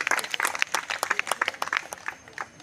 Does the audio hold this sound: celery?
no